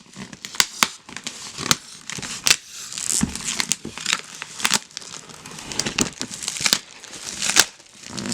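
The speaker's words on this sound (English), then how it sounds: "So I'm going to have to rip it open from right here." Cardboard packaging for an Eisbaer 420 cooler is torn open by hand, giving loud, close, irregular ripping and crinkling bursts that continue steadily with no talking.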